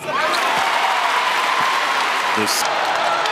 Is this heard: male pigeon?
no